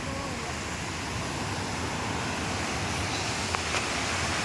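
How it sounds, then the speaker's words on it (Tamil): Rushing water near a bridge roars as a steady, loud, broadband wash that fills the whole stretch, close by and continuous, with no voices rising above it. "சவுண்டு கொஞ்சம் தண்ணியோட சவுண்டு அதிகமாக இருக்குது."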